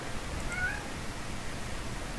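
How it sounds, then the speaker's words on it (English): A single faint, short cat meow rises briefly early on over steady low background noise, with no talking. "First cat appearance of the day."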